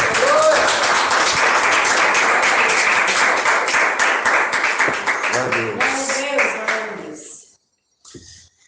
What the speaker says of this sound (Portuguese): Pode glorificar e exaltar o Senhor com palmas bem alegres para Jesus